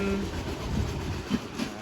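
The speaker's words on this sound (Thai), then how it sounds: "สำหรับการดัก รถไฟในช่วงเช้านะครับ" A train rolls past the platform at Surat Thani station on the southern line, a steady moderate rumble of wheels with a few clanks and no voices.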